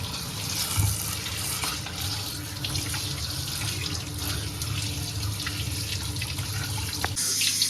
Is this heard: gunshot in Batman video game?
no